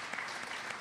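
Steady, dense audience applause filling a short stretch, even and sustained from a sizable crowd, heard somewhat distant and without talk.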